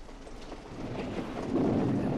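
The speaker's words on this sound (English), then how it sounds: "whipped by a driving rain" Audio drama sound effect of driving rain and thunder: a dense wash of rainfall with low rumbling swelling louder toward the end, windy and continuous, with no voices.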